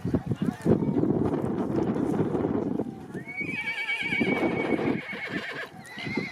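At an open horse and bullock cart race during the Tukai Mata fair near Yeola, Nashik, a horse gives a shrill, wavering neigh midway, over hoof clatter, wind noise and crowd commotion, with people talking.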